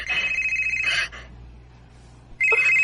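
A cellphone ringtone sounds loud and close in two bursts of steady electronic ringing, broken by a quiet gap of about a second and a half before the ring starts again.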